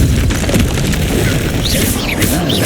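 A Confringo fire spell bursts in Hogwarts Legacy, a dense booming blast with crackling debris and whooshing magical effects, loud and sustained through the short moment without voices.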